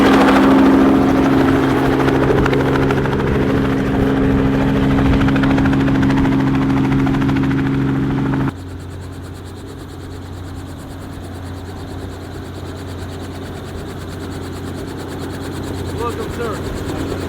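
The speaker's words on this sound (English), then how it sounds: "So we're about to go on the helicopter." A helicopter arriving for a ride over Orlando, its loud rotor and turbine roar steady and close, then dropping to a lower, quieter idling drone partway through.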